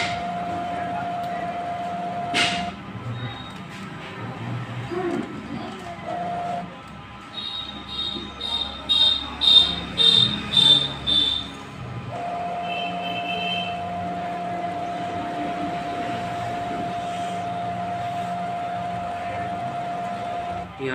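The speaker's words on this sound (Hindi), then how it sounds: "अगर आपको आवाज़ सुनाई दे रही हो तो आवाज़ प्रिंटर में कुछ ऐसी आ रही होगी" A Brother printer runs its print-head cleaning cycle, giving a long steady mechanical hum with a sustained tone, short clicks, and a burst of rapid whirring pulses in the middle.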